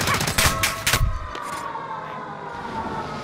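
Video game gunfire from an enemy firing from the far side of the map, heard as a quick cluster of sharp shots in the first second before fading into quieter game ambience.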